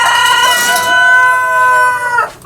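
A Japanese bantam rooster crows one long, loud, close call lasting about two seconds, clear and alone, ending in a brief trailing cluck.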